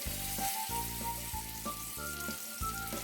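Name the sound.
buckwheat patties with meat and mushrooms frying in oil in a pan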